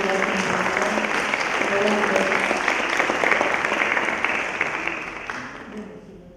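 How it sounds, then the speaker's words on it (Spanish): A full room claps steadily for a speaker at a mental health conference, dense and loud applause with no talk over it that tapers off toward the end. "Le damos un aplauso a Paula Marante."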